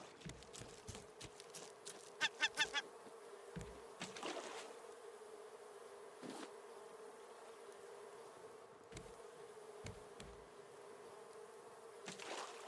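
Bees buzz around beehives in the survival video game Raft, a quiet continuous drone with scattered soft taps and clicks, one brief brighter chirp early on, with no voices.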